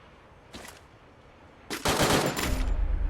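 Automatic gunfire in a shooter video game: a short burst of shots, a pause, then a longer, louder sustained volley that continues to the end.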